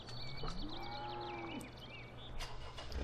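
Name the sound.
cow mooing in video game Farming Simulator 2013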